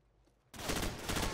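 M16 rifle fire in the video game Call of Duty 4 breaks out suddenly after a quiet moment, a loud, dense burst of rapid shots that carries on to the end.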